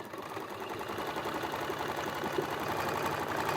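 A domestic sewing machine stitches a buttonhole on a fabric curtain tie-back, its steady fast mechanical whirr running continuously at an even pace, close and moderately loud.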